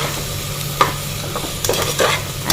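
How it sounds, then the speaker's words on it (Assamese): Vegetables stir-frying in a pan, with scattered sizzling bursts and stirring scrapes close up, no voices. "সবজিখিনি ফ্ৰাই কৰি লম ভালদৰে"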